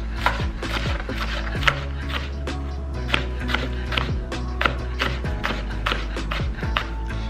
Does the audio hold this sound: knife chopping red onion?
yes